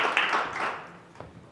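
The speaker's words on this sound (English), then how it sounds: "how about a round of applause for Amy and her presentation?" Audience applauding a presenter after a training presentation, a short dense burst of clapping that fades quickly, close and loud.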